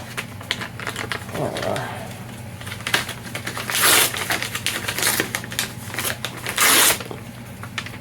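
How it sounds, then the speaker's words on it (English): A small paper envelope of soft goods from a Lego set is opened close to the microphone, with crisp rustles and two louder tearing crinkles over a faint background hum. "just gently open this little envelope"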